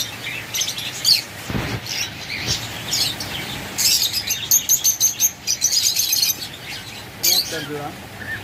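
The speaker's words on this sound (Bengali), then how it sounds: "এখানে এক জোড়া কোনুর রয়েছে" A pair of conure parrots for sale calls in repeated sharp chirps and squawks, some close and loud, with a few wing flutters and someone talking in the background.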